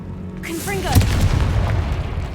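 A Confringo blasting spell detonates in Hogwarts Legacy: a rising whoosh leads into a single heavy boom close by, followed by a rumbling decay, with a voice sounding just before the blast.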